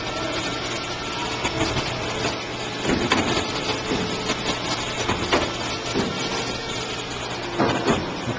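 A tube bending machine feeds and bends pipe with a steady mechanical whir, intermittent ratcheting clicks and clunks recurring every second or so, loud and close throughout.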